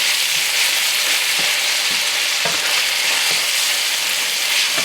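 Sloppy joe meat sizzles loudly and continuously in a frying pan while it is stirred with yellow mustard, soft scraping strokes sounding under the steady hiss.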